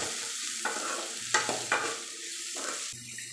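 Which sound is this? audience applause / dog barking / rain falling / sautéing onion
sautéing onion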